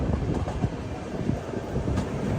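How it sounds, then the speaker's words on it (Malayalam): A mail sleeper train pulls into platform 2 at Thrissur railway station, wheels rumbling and clattering steadily over the rails up close, with brief squeals and no voices. "തൃശ്ശൂർ റെയിൽവേ സ്റ്റേഷനിലേക്ക് ഇതാ നമ്മുടെ ട്രെയിൻ എത്തിക്കൊണ്ടിരിക്കുക."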